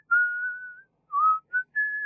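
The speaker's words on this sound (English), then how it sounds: "he heard the sound of someone whistling" Someone whistles an innocent-sounding tune in a few clear tones: one long held note, then three shorter notes, close and alone without speech.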